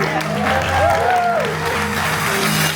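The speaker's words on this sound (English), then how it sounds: "Give yourselves a round of applause." A crowd claps and cheers steadily for a few seconds, with a voice briefly audible over the applause.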